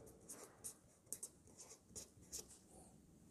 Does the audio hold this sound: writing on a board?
yes